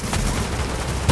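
Gunfire from the video game The Division rattles in a dense, continuous stream of loud shots, ending with a sharper, heavier blast.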